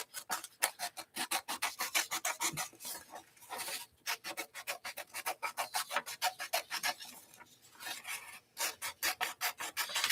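Scissors snip steadily around a painted paper four-leaf clover mandala, a quick rhythmic series of close, dry rasping cuts with a few short pauses.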